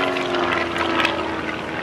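A Pitts S-2A aerobatic biplane built in 1978, with a 200-horsepower engine, drones steadily overhead at an airshow in St. Augustine, a loud, even propeller roar with a steady engine hum and no talking.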